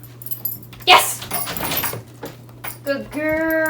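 A dog works a door open on command, with a brief clatter of the handle and door movement amid a trainer's repeated spoken cues and praise, plus a short whine from the dog.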